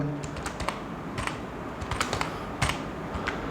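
Quick bursts of computer keyboard keystrokes in an uneven rhythm as text is entered into an Excel spreadsheet, close and fairly clear over a low background hum.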